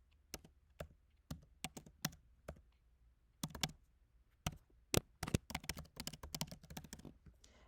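Quiet typing on a computer keyboard, close and faint: irregular clusters of sharp key clicks with short pauses between bursts, quickening toward the end, with no talk.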